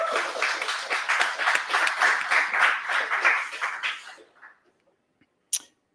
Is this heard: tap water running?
no